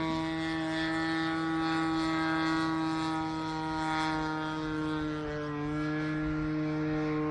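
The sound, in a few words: giant Stick RC model airplane engine at half throttle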